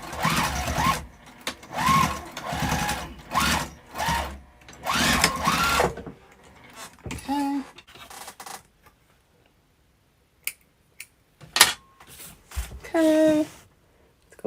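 A sewing machine stitches a zipper pouch with foam padding in short, steady bursts of rapid whirring, separated by pauses with handling noises and a person talking nearby.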